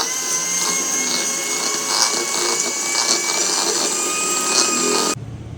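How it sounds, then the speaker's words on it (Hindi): An electric mixer blends cake batter with ground sugar in a steady, loud motor whine. It runs for about five seconds, then cuts off abruptly. "अब हम इस सबको मिक्स कर लेंगे।"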